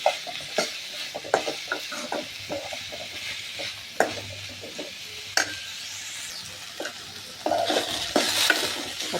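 Brinjal sautéing in a hot pan, with steady sizzling broken by repeated scraping and clattering stirs of a utensil against the metal, close and moderately loud, no talking.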